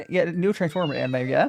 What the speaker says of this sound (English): that is a cat's meow